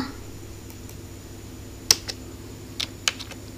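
Several sparse, crisp key clicks are typed on a computer keyboard while entering an author's name in MS Word, set against a faint steady room hum.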